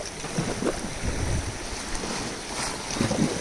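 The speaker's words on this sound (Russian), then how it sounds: "Послушайте шум моря, друзья, буквально пару секунд." Broadband sea surf and wind roll steadily at the shore, with a few louder wave swells rising and easing over a few seconds and no talk.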